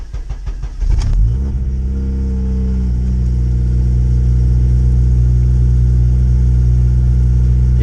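A Honda Civic engine fitted with a TVS 1900 header cranks and fires up, then settles into a loud, steady, close-up idle with a deep rumbling drone that holds for several seconds.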